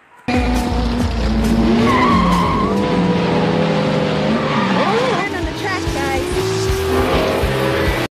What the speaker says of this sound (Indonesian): Ia juga masuk ke dalam mobil F1-nya dan mengejar Eko. Aksi kejar-kejaran pun terjadi.